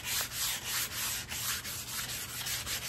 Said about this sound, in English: You see me going right over the rawhide with the 320 grit?